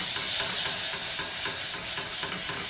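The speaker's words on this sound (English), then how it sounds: "Now it may sizzle a little bit when we add the milk." Milk being added to a white roux sauce in a pan, a soft constant sizzle with rhythmic stirring strokes scraping through it, close and continuous, no voices.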